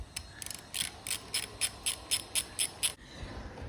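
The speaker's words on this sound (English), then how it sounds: "I thought what I'd do is loosen off these pinch bolts" A Nielsen ratchet loosens the fork pinch bolts on a Zephyr 750 motorcycle, making about a dozen close, evenly spaced ratcheting clicks in a steady rhythm that then stop, with no talking.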